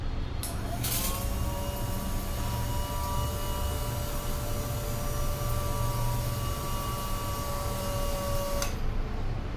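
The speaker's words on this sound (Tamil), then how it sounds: "நான் இப்போ வந்து வாட்டர் பம்ப் ஆன் பண்ணுறேன்." The water pump of a toilet-cleaning robot runs with a steady, fairly quiet whine and hum for about eight seconds, switching on near the start and cutting off just before the end, with no talk over it.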